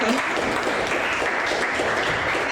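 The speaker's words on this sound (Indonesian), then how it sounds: "Tepuk tangan lagi boleh ya" Steady, dense audience applause at a university youth forum in North Sumatra, a full room of hands clapping continuously at even loudness throughout.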